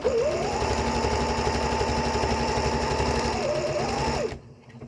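A sewing machine stitches a French seam on underwear, running steadily and loud for about four seconds with a whirring motor pitch that rises and falls, then stops abruptly.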